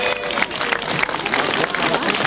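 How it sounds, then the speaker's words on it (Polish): Scattered applause from a festival crowd in Poland, a brief burst of clapping with some voices mixed in. "Pięknie brawa, widzicie, mili państwo."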